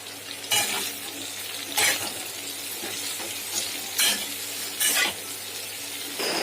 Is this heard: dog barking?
no